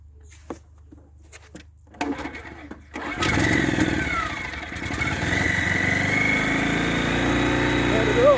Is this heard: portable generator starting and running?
yes